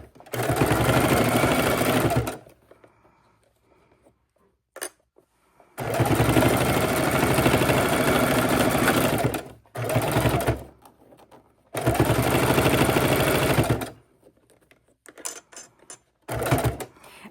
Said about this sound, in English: let's go ahead and sew this